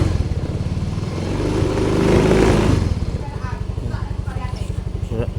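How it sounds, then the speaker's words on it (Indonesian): A motorcycle engine rumbles in a fast, rhythmic idle. The throttle is then held wide open so the engine climbs to its highest revs, and it settles back to a throbbing idle as someone talks over it. "Ini bensinnya digeber RPM paling tinggi ya"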